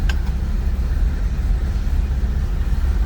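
A 1965 Ford Mustang Fastback engine idles with an even, deep low-end rumble, close and continuous, with a small click at the start and no talking.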